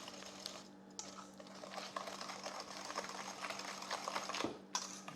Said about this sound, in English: So let's whisk this.